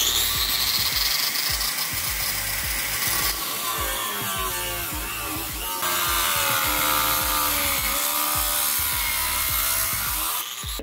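A power tool saws through an old cast iron main sewer drain pipe, a loud continuous grinding-cutting roar that holds steady for the whole stretch, with shifts in pitch as the blade bites.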